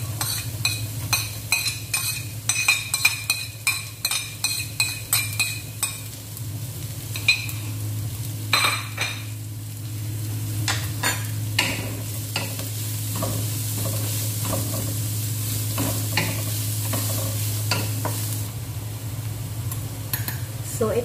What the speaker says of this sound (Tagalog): Ngayon naman ay isusunod natin yung chopped onion.